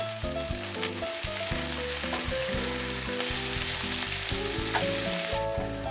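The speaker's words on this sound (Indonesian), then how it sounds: "ditumis-tumis sampai semua bahan yang ditumis ini juga mengeluarkan" Shallots, garlic and large red and green chilies sauté in oil, making a dense, constant sizzle over steady background music.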